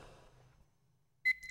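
A short electronic beep from the Sega Saturn video game Policenauts sounds once, loud and clear after a near-silent stretch, following faint background sound.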